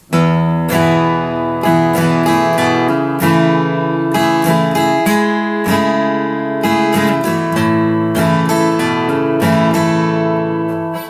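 Acoustic guitar slowly strums a song's verse chord progression, steady down-up strokes ringing out alone and close, each chord change clearly articulated.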